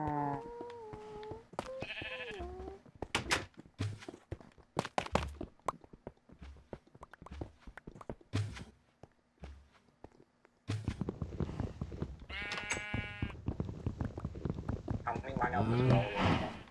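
Minecraft sheep bleat repeatedly in a blocky farm enclosure, wavering calls mixed with game footsteps and block-placing thunks, while a person talks over them at times.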